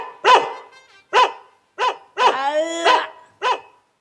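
A dog barks sharply and close by, about five times with pauses between, one bark stretching into a longer whining howl.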